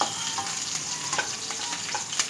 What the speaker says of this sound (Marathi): मिरचीला थोडंसं हे करायचं आहे, थोडीशी तेलामध्ये त्याला परतून घ्यायची